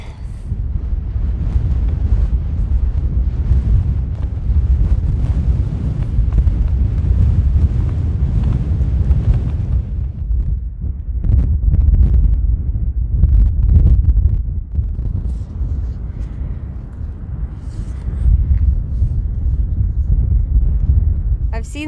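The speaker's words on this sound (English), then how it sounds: "It's still pretty windy, but like, just blasted." Strong wind buffets the microphone outdoors on the Kungsleden trail after rain, a loud continuous low rumble with gusting surges that ease briefly midway before building again.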